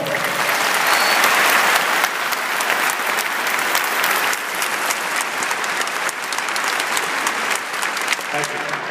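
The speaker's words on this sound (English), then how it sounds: "How about a round of applause?" A large crowd applauds at a 2013 police academy graduation in the Barclays Center, loud continuous clapping that keeps an even intensity throughout.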